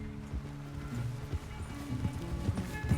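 A horse gallops in Red Dead Redemption 2, steady rapid hoofbeats thudding in a running rhythm over a low game soundscape, with no talk during the run.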